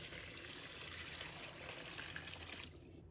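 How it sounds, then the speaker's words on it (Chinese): Clean water poured into a basin over pork belly to rinse it, a steady close splashing trickle that runs continuously and thins out near the end. "再一次倒入清水。"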